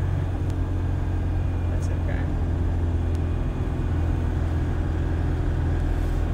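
1991 Toyota Hilux truck engine droning steadily while driving, a constant low rumble close inside the cab, with a person speaking briefly over it.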